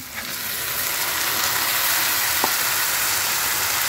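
Marinated chicken frying in lightly fried onions, a loud, dense, steady hiss of sizzling oil heard close up, with a single brief clink partway through and no talking.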